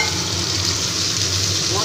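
Food frying with spices in a pan, a dense, loud, continuous sizzle heard close up and without pause.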